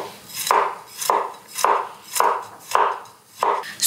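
Bamboo shoots being chopped into large chunks with a knife on a board, six evenly spaced heavy thunks about every half second, close and clear with no talking.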